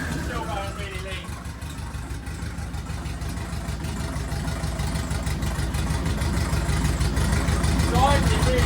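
A Ford Fiesta MK1 engine idles steadily at about 700 RPM, running lean, with a low even rumble that grows slightly louder toward the end while someone talks over it.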